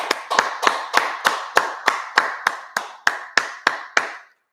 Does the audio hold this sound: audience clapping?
yes